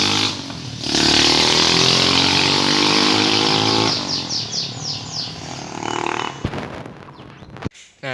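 Motorcycle engine revving loudly and steadily during carburetor tuning, then dropping to a rougher, uneven idle with a few sharp bursts near the end, close up with no talking.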